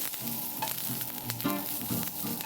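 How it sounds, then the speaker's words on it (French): Green asparagus fries in a little olive oil in a pan over fairly high heat, a steady close sizzle broken by light crackles and a few clinks of stirring, with nobody talking. "je fais revenir mes petites asperges vertes dans un petit peu d'huile d'olive et je les fais griller à la poêle sur feu un peu vif"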